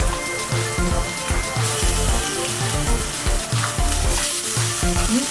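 Beef pieces sizzle loudly as they hit a pan of frying shallots for an Indian buffalo curry, a steady dense hiss with repeated low scraping stirs throughout, no voices.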